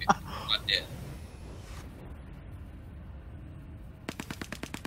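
A rapid burst of roughly eight sharp gunshots cracks out near the end of the clip, from a video-game space battle around an ARGO and a Caterpillar ship. Brief voices and scattered noises come earlier.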